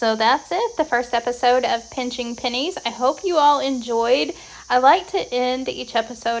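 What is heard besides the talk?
cicadas chirping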